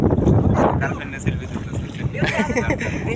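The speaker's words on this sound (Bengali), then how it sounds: "আজকে বাতাস তো নৌকায় প্রচুর ঢেউ উঠতেছে" Strong wind buffets a boat on the Kaliganga river, rumbling and gusting against the microphone with water splashing around the hull; voices talk in the background.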